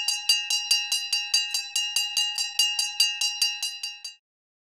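A train bell clangs in a steady, even rhythm, about eighteen bright metallic strikes ringing clearly and close before stopping abruptly.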